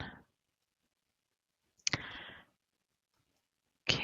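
Three separate crisp mouse clicks during a content-management software demo, spaced about two seconds apart in an otherwise silent room, the middle one trailing off with a short rattle.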